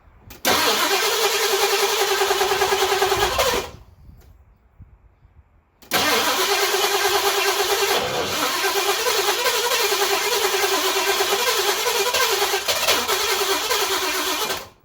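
A carbureted V8 in a 1982 Ford LTD cranks and catches after a carburetor rebuild, runs roughly, cuts out for about two seconds, then restarts and runs unevenly with a loud, close, wavering idle until it dies near the end.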